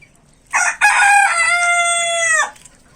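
A rooster gives one loud, close, drawn-out crow among chickens being fed watermelon rind, with a short clucking burst just before and quiet surroundings otherwise.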